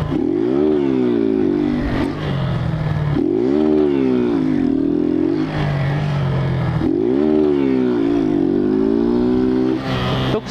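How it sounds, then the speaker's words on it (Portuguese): A motorcycle engine revs hard in repeated surges on a climb, each rising whine followed by a drop as the rider backs off, loud and close with three clear rev cycles. "A moto tá fraca pra subir."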